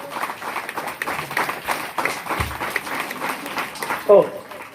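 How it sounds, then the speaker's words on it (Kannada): A school gathering applauds a student being honoured for an achievement; loud, steady crowd clapping runs throughout, with a brief louder knock near the end. "ಎಲ್ಲರೂ ನೋಡಿ ಒಂದ್ಸರಿ ಜೋರಾಗಿ ಚಪ್ಪಾಳೆ ಎಲ್ಲರೂ"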